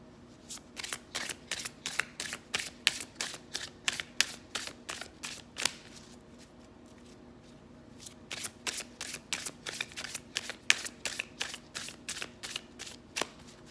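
Tarot cards are shuffled hard in quick riffling bursts, a steady run of crisp slaps lasting several seconds, then a brief pause, then another rapid sequence of shuffles, close and clear with no talking.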